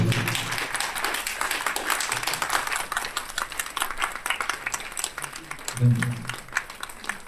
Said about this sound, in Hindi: खड़े होकर ताली बजाकर इसके साक्षी बने।